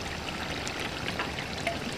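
Water poured into a mutton karahi on the cooking pot gives a steady, soft, continuous splashing trickle that stays even and fairly quiet throughout, with no talking.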